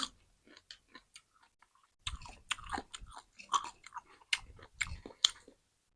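Chewing on grilled squid close to the mic, with soft bites, wet mastication and occasional crunchy clicks in an irregular rhythm, alone after a quiet start and no talking.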